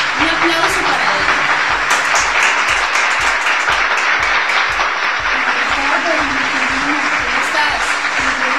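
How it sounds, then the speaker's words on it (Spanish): An audience at a university management show at Universidad del Atlántico gives sustained, dense applause that is loud and close throughout, with voices heard over the clapping. "Un aplauso para él."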